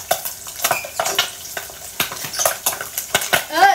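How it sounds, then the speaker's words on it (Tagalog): Ham luncheon meat frying in a pan, with scraping stir strokes and clinks of a utensil against the pan over a steady sizzle, all close up and with no talking. "Niluluto na natin ang ating ham."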